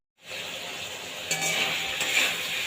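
Cauliflower, potato and paneer fry and are stirred in a pan. A steady close sizzle, with a couple of brief stirring scrapes partway through.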